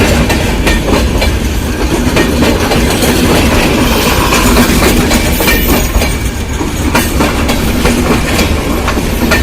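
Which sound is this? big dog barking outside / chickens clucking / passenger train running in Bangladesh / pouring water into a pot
passenger train running in Bangladesh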